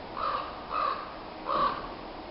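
A raven caws three times in woodland, loud harsh calls spaced evenly with short pauses between them, standing alone against a faint background hiss.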